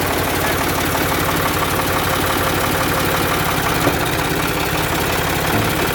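A Ford 335 tractor engine idles steadily and close by, a continuous low rumble with faint knocking and vibration, heard alone without any talking.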